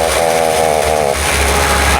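A small garden engine runs rough and won't throttle up fully, a loud, close, uneven buzzing drone that shifts and wavers partway through, with a voice speaking over it.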